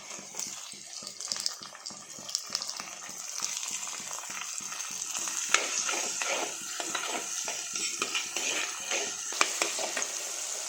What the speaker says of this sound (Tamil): இது ஓரளவுக்கு நல்லா வதங்கி வரட்டும்.